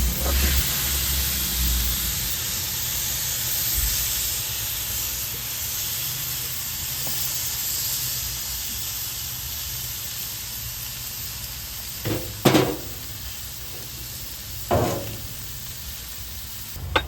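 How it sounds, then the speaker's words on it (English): Chopped ratatouille vegetables hit a hot pan over a high outdoor grill fire with a loud, continuous hissing sizzle, followed by a few short clatters of the pan near the end, with no talk. "give them a nice little toss with my hand and get them into this hot pan."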